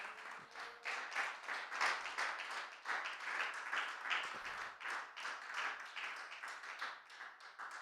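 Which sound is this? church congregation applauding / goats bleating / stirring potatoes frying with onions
church congregation applauding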